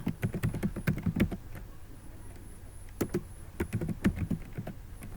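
HTML code being typed on a computer keyboard: quick clusters of close, crisp key clicks arrive in short bursts with brief pauses between them, and no one speaks.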